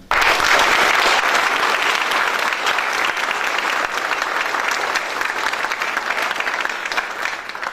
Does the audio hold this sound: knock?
no